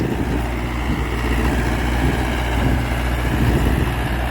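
An old, worn Mahindra 475 tractor engine runs continuously close by, a loud, steady, rumbling idle with no pauses.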